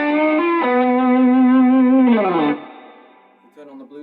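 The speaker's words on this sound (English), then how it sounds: "Let's start with the Tube Screamer." Electric guitar driven through a Tube Screamer high-gain overdrive pedal at the start of the gain stage, sustained saturated notes sliding between pitches, then decaying into quieter ringing with a brief soft flourish at the end, loud and alone.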